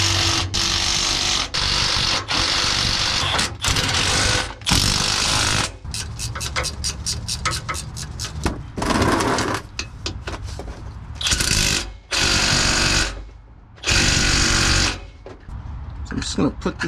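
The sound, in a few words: power tool driving bolts into a Nissan Xterra differential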